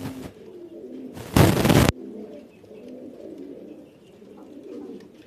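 A pair of black and grizzle Spanish pouter pigeons sitting on eggs in a loft coo in low, repeated, rolling phrases nearby, broken once by a short loud rush of noise.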